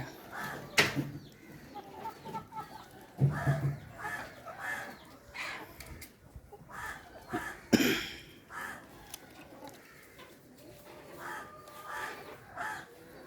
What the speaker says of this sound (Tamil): கோழி இருக்கிறத அழகாக பாருங்க.